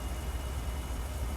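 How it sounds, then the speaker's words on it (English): Kenworth W990 truck with a modded 500 horsepower Cummins M11 diesel engine in American Truck Simulator, a steady low engine drone running evenly throughout with no talk. "we are driving the Kenworth W990 with the Cummins M11 engine mod"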